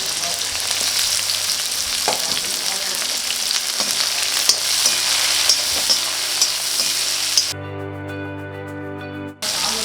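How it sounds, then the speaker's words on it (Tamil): Onions sizzle and crackle steadily in hot oil, a continuous frying hiss with occasional pops, close by and fairly loud. "வெங்காயம் நல்லா வதங்கட்டும்"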